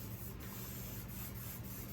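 Spray paint hisses from an aerosol can fitted with a fresh nozzle, a steady, even spray that holds for about two seconds, quiet and alone with no talking.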